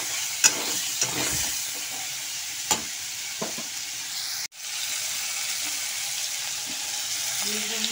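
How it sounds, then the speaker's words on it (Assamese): Potato and soybean sizzle steadily in a pan while being stirred, with a constant hiss of frying and a few sharp scraping knocks of the spoon against the pan. "আলু আৰু সয়াবিন দি দিলোঁ, দি কিনে এতিয়া ধুনীয়াকৈ কচাই দিওঁ"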